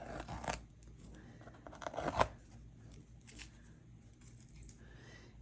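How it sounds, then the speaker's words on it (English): Masking tape peeled away from dried watercolour paper, a quick ripping strip near the start and a sharper, louder tear around the two-second mark, then only faint rustling. Close and quiet, with no talking. "I'm going to peel off the tape"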